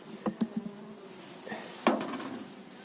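Honey bees buzz faintly at a hive in a small backyard, a thin hum broken by a few soft knocks early on and a louder rustling burst near the end.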